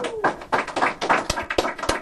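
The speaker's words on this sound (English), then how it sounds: "Give him a round of applause." An audience claps for a guest on a show, a short burst of scattered hand claps, fairly close and moderately loud, with no talk over it.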